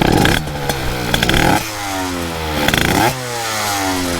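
Derbi 70cc motorcycle with a Metrakit kit, its two-stroke engine running loud and close, revving up in bursts that drop back to a rough, buzzing idle, with rattling vibration.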